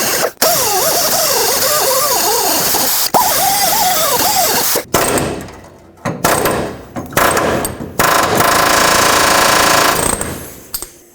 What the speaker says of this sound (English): use my air chisel and break it off